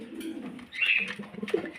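A pair of fancy pigeons coo softly in a loft, their low throaty calls repeating close by with a few brief chirpy notes mixed in.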